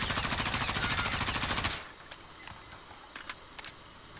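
An M4-type rifle called the Grenader M4 fires in a video game as one long rapid automatic burst lasting under two seconds and then cuts out, leaving a low background hum with a few faint clicks.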